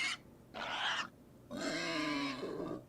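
Pig grunts taken from a sample library and used in video game music, three short throaty grunts in sequence, the last one longer and more drawn out, fairly close and clear with no talking.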